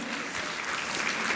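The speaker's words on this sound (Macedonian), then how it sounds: "Ве молам еден аплауз." An audience at a fashion event applauds a newly introduced designer in a short, even burst of clapping heard at moderate distance.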